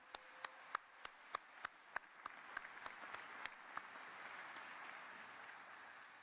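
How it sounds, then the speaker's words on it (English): Audience applause for a band and chorus at a formal ceremony, opening with a series of sharp, evenly spaced claps that swell into a sustained, moderately loud wash of clapping from a large crowd. "let's give the band and the chorus another round of applause."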